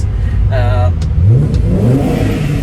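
BMW E30 325iS with a clean original engine revving inside a tunnel, a steady loud drone with rising pitch sweeps as the throttle climbs, echoing under a voice.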